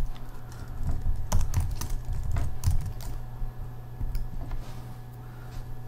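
Fingers type code on a computer keyboard with quick, irregular clusters of close key clicks and short pauses, no talking.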